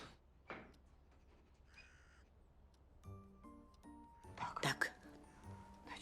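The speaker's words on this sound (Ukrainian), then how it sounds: "Лікарю, там ворон за вашим вікном." A crow caws outside a window, a few brief harsh calls heard faintly in a quiet room, with a clatter and other muffled noises around them.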